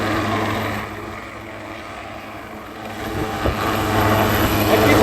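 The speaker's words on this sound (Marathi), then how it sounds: "हेलिकॉप्टर जे आहे ते उर्वरित उरलेल्या लोकांना घेण्यासाठी पुन्हा एकदा हेलिकॉप्टरने उड्डाण घेतलेलं आहे" A steady, fairly loud drone of a rescue helicopter flying over a river near Malegaon, with a low thrumming rotor hum that swells slightly toward the end, voices faintly underneath.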